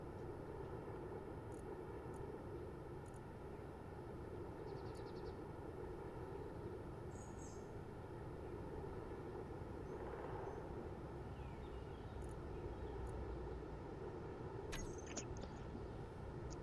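Spaceship thrusters in Space Engineers emit a low, steady engine-like drone, faint but unbroken throughout, with a few tiny clicks on top.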